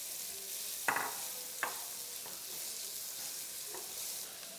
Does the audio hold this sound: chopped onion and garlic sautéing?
yes